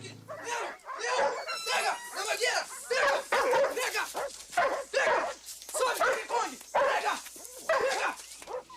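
A dog barks and yips in rapid repeated bursts, loud and close, mixed with excited voices speaking over it.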